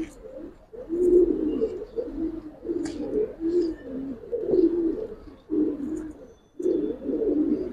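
A loft of Giribaz pigeons, silver bagha and green-necked birds, coos steadily up close, with overlapping low, rolling phrases broken by short pauses and a few faint chirps, and no one speaking.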